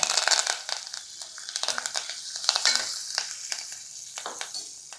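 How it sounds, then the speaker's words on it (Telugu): A tempering of seasoning and two dry red chillies crackles in hot oil in a pan, with bursts of popping and stirring crunches over about five seconds that fade toward the end, with no talking. "పోపు కొంచెం వేగనిచ్చి 2 ఎండుమిర్చి కూడా వేసేద్దాము"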